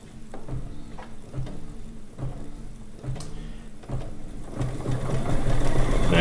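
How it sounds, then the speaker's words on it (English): Embroidery machine running a placement stitch for the center of an applique flower on a quilt block, a steady mechanical rhythm of needle strokes that grows louder and denser near the end. "Now we are going to do our placement stitch"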